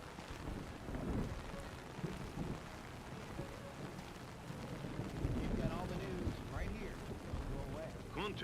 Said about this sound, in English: It's really raining.